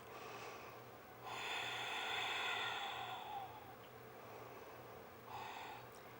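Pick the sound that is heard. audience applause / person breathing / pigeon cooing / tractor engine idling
person breathing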